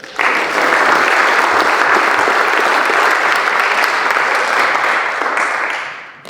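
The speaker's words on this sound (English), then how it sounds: "Big hand of applause." Sustained applause from an audience at a culinary academy plenary meeting, thanking sponsors who supplied cheese and wines; dense, steady clapping fills the room for about five seconds before tapering off.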